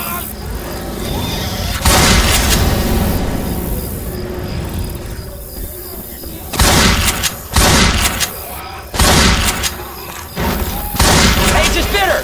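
Gunfire in Left 4 Dead 2 with modded gameplay comes as loud bursts of shots and booming impacts in clusters, over constant game noise, with players shouting over it.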